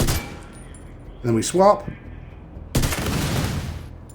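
Weapon fire in The Division 2, a looter-shooter video game, testing explosive damage: a burst of shots near the start and a sustained roar of gunfire from about the three-second mark, with a brief spoken line between them.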